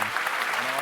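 A live crowd at a game reveal event applauds in a steady, dense wash of clapping that holds evenly throughout, with a voice talking over it.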